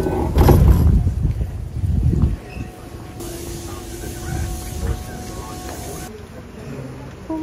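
Passenger train bound for Kyoto, a heavy low rumble and clatter up close at first, easing into a quieter steady hum with a long hissing wash in the middle.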